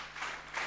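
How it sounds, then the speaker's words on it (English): Rhythmic clapping from a conference audience, two broad bursts of hand claps close together, moderately loud with no talking over them. "So when at the stay of 3, we clap 1, 2, 3, 1, 3 times."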